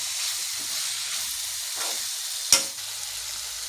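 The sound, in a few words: masala with vinegar sizzling and being mixed in a pan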